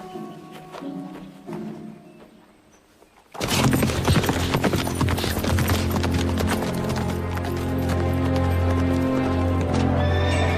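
Horses neigh and whinny while hooves clip-clop steadily nearby. A quieter stretch gives way to a loud, busy burst of neighing and hoofbeats that continues to the end.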